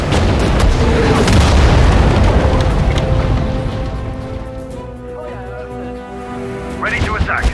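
Destroyer naval guns firing in Sudden Strike 4 at Dunkirk, a loud deep boom followed by a long rumbling decay, with voices faintly audible underneath.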